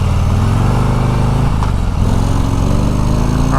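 A Harley-Davidson Road Glide CVO motorcycle with the 117 engine accelerates on a demo ride at an outdoor show, a loud close rumbling engine whose pitch climbs, dips briefly at a gear change, then pulls upward again.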